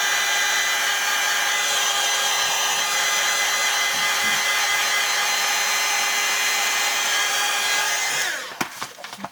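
A handheld dryer blowing to dry vintage photo ink on a canvas, a loud steady whooshing hum with a faint whine held for about eight seconds, then switched off with a few clicks and handling noises.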